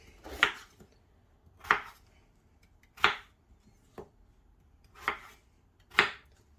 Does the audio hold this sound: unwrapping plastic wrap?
no